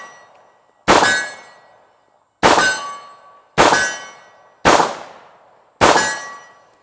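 Five sharp shots from a Taurus 1911 pistol, each followed by the metallic ring of a struck steel target decaying quickly, spaced about a second apart and loud at close range.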